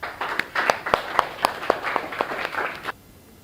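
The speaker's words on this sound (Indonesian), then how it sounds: "tepuk tangan semua" A class of students claps in a classroom, about ten sharp, evenly spaced hand claps in a brisk rhythm that stop abruptly after roughly three seconds.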